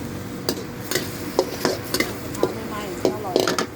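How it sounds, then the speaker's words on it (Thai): Repeated scraping clangs of a spatula in a wok over a steady sizzle, in an irregular stirring rhythm, close up, while holy basil is stir-fried. "ผัดสูตร กะเพราไฟไหม้กระทะแล้วนะครับ"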